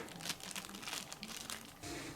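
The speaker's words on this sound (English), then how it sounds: "Then remove the protective plastic bags that are wrapped around the horse's leg." Crinkling protective plastic bags are pulled off the legs of a 20-inch Battat Our Generation American Saddlebred toy horse, giving continuous close rustling and crumpling, quiet and alone.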